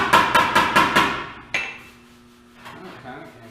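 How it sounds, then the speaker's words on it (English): A hammer taps out a low spot on a 1939 Ford fender: five quick, evenly spaced metallic blows up close, followed by a single sharper strike and quieter handling noises. "you don't want to start banging it really hard with your hammer on the low spots from the inside"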